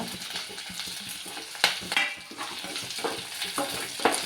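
Curry leaves dropped into a hot pan of oil for a curry, crackling and sizzling steadily with spoon stirring and scraping clicks throughout, close and fairly loud with no talking.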